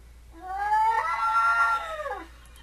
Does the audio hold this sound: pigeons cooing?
no